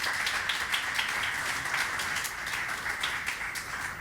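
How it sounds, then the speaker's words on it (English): An audience at a data analytics meetup claps for a few seconds, a dense, moderate patter of many hands heard from a middle distance, with no talking over it. "let me ask for a spontaneous applause to all of them"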